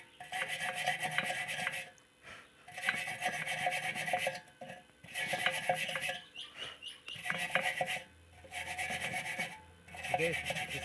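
A wire brush scrubs rust off metal in repeated strokes during welding work on a homemade firewood burner, each burst of harsh rasping lasting about a second or two with short pauses between, close and fairly loud with no talk.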